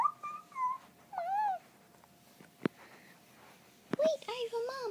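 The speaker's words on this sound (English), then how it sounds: "Wait, this isn't a dog. It's a kitten." A kitten mewing in a video game, a few thin rising-and-falling cries in short bursts, fairly close, with game background noise and a clicking sound between them.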